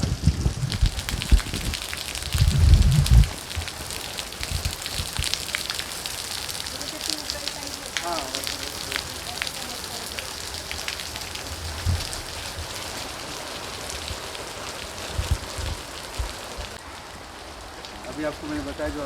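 A garden fountain in Udaipur sprays water that falls onto leaves like rain, a steady hiss and patter continuing throughout, with a few low thumps and faint background noise.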